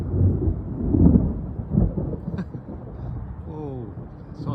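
Thunder during a thunderstorm rolls as low, deep rumbles that swell and fade over several seconds, with a person talking quietly around them.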